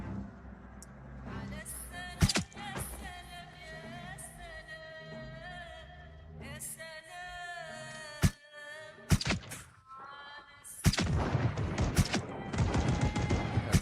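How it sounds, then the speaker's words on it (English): Gunfire in the zombie survival game Project Zomboid: scattered loud shots and bursts, several sharp cracks spread across the stretch, over a busy bed of game ambience with tonal music-like layers. "Good, that's what I want to hear. Gunshots."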